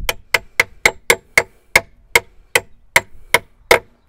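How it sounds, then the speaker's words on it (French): A hammer taps a rear brake part into place on a camper van, about fifteen sharp metallic knocks in a steady, fairly even rhythm, close and loud with no talking. "Petit coup de marteau pour aider le tout."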